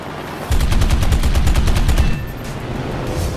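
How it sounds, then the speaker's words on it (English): Aircraft autocannon fire in the video game War Thunder, a loud, rapid burst of heavy gunfire lasting about a second and a half over a steady engine drone, with no talking. "The best 7 aircraft autocannons available in War Thunder."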